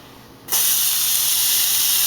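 Chopped onion dropped into a hot pan for Moroccan chicken bursts into a loud, steady sizzle after a quiet start, hissing continuously with no voices.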